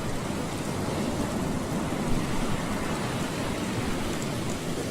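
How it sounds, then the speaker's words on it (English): Steady rainfall in the video game Chronicle of Innsmouth, a dense, even hiss of rain with a faint low rumble underneath, constant and unbroken with no voices. "Oh, and it's raining again."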